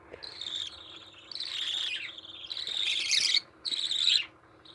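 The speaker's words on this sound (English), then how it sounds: "here's the squawker." Young budgie chicks about 25 days old squawking, harsh high-pitched bursts in four rising, insistent bouts with short gaps, close by and loud with no talk.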